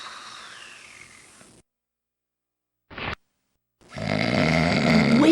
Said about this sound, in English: Here's a little trick I learned to help me deal with Adam's snoring.